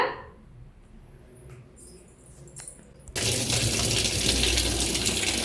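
Tap water gushes into a washing machine in a home laundry setup, a loud steady rush that bursts in suddenly after a quiet stretch with faint clicks and trickles, then holds at full strength to the end.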